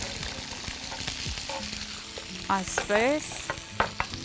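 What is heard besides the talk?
mushrooms frying and being stirred in a pan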